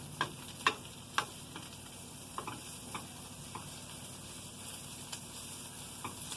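Onions sizzling and nearing caramelization in a cast iron pan, a soft steady fry with a few sharp stirring clicks near the start and then sparser ticks.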